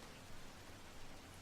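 Steady rain from the video game Heavy Rain, a continuous even hiss of falling water with no distinct drops standing out.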